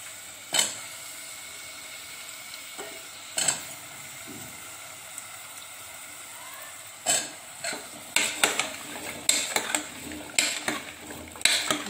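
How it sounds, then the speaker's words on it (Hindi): Soaked chickpeas and potatoes are stirred in a pan with a metal utensil, giving sparse scraping clinks at first, then a quicker run of clattering knocks against the pan over a quiet background. "ये देखिए, इन सारी चीजों को हम अच्छी तरह से मिक्स कर लेंगे।"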